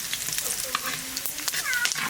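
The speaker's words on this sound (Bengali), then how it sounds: "তেল গরম হয়ে গিয়েছে, এর ভিতর দিয়ে দেবো তেজপাতা," Bay leaf, cumin, dried chilli and garam masala crackle in hot oil for a goat curry, a lively sizzle with sharp pops and spatter, a faint meow-like squeak briefly heard amid the frying.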